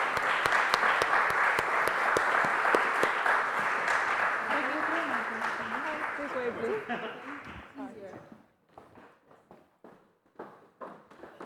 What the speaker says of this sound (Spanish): Les damos la bienvenida con un fuerte aplauso